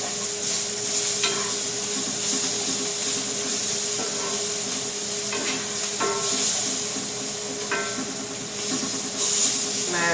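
Mushrooms and green olives sizzling in a skillet, a steady frying hiss with occasional scraping stirs of a utensil and no voices.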